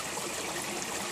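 A good-sized creek on the Hat Creek Rim stretch of the Pacific Crest Trail streams steadily among boulders and heavy trees, a close, continuous broadband rush and trickle with no voices.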